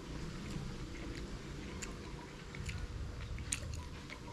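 Close, wet chewing of a Lao street food wrap with sweet peanut sauce, soft squishy bites and light crunches repeating steadily over a quiet background, no talking.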